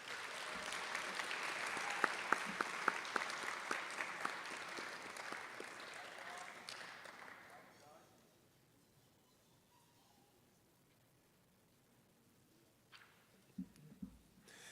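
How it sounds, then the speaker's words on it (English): Audience applause at a high school senior honors ceremony: a broad, steady roar of many hands clapping for about seven seconds with a few sharp individual claps, then fading to a quiet room with a couple of faint stray claps near the end. "One more round of applause."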